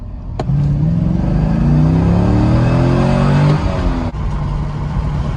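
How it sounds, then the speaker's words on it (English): A C5 Corvette V8 with a Borla exhaust revs hard in first gear, pitch climbing steadily for a few seconds, then backs off abruptly and settles into a lower idle rumble, close and loud. "I'll give you guys a little pull here in first gear"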